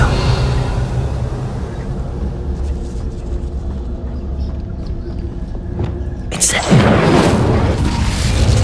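Revelio spell cast in Hogwarts Legacy, a sudden bright whooshing burst of magic near the end, rising over a steady low game rumble and a voice speaking.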